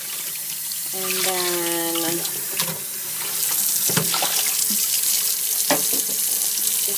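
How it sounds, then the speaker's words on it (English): Water runs steadily from a tap into a sink while Kool-Aid-dyed linen is rinsed under lukewarm water, a continuous splashing flow with a brief spoken remark near the start. "I'm going to rinse it out with like lukewarm water so it runs a bit clear."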